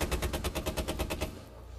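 Automatic gunfire in Rainbow Six Siege rattles in a rapid burst of about a dozen close, loud shots before cutting off.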